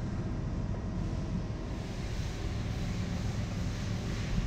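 A ship's main engine is turned over on compressed air in an engine room, heard as a steady, dense low rumble with a broad hiss above it, continuous and fairly loud throughout.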